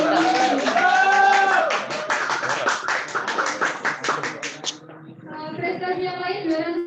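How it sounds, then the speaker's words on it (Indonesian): Audience at a scholarship sharing session applauding a speaker, rapid, fairly close hand clapping that thins toward the end, mixed with voices and cheering throughout. "Tepuk tangan buat Mas Anas."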